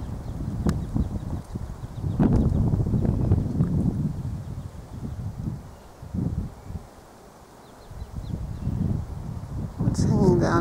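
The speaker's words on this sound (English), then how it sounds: "Listen to the wind." Wind gusts roar and rumble across the microphone outdoors beside a fence where a wallaby is nearby, a steady low buffeting that dips briefly before swelling again.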